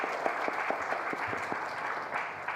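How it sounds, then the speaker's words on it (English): Audience applause at a medical workshop, a steady patter of many hands clapping at moderate loudness with some individual claps standing out, continuing throughout without talk. "A round of applause."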